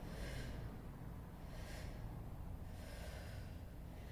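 Breath pushed out during a Pilates exercise for the waist and hips, heard as a few soft rushing exhalations that swell and fade over a steady low background hiss, with no talking.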